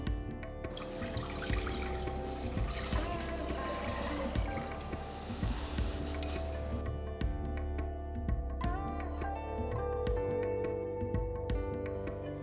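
Milk, one liter, poured into a large pot in a home kitchen, a soft continuous liquid stream with light trickling and splashing, close and moderately quiet, with no talking.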